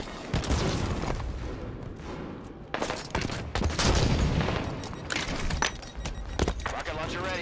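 Rapid bursts of gunfire and booming explosions fill a Halo 5: Guardians multiplayer match, dense and loud throughout, with clustered shots and a game announcer's voice mixed in.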